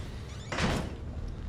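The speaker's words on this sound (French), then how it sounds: "Et je vais fermer la porte." A door pulled shut in the horror video game Outlast: one short, muffled closing thud with a brief slide, heard alone against quiet ambience.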